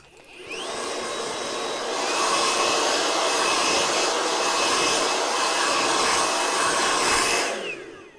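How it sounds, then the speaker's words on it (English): A blow dryer runs steadily while drying and styling hair, a loud continuous whooshing roar that ramps up, holds for several seconds and cuts off at the end, with no talking. "let's use the blow dryer to wipe out the extra hair here"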